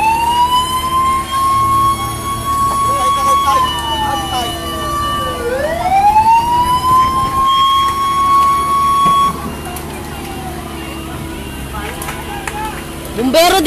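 A fire truck siren at a spreading fire wails loudly and close by, rising and falling in pitch, with people shouting over it and a horn blast near the end.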